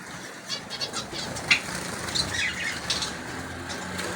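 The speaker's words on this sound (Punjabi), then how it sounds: "ਦੇਖੋ ਕਿੰਨੀਆਂ ਛੋਟੀਆਂ ਜਿਹੀ ਚਿੜੀਆਂ ਨੇ" Small pet finches in an aviary flutter their wings in quick bursts of soft whirring flaps, with a few thin, high chirps scattered throughout at close range.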